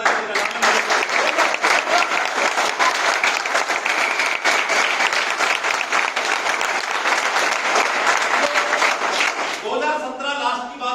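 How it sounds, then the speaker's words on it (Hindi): A crowd at a motivational talk breaks into loud, sustained applause that fills the space for about ten seconds, then gives way to a voice speaking. "मैं चाहता हूं उस व्यक्ति के लिए दिल से जोरदार ताली बजाना"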